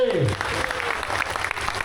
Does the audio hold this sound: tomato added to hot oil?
no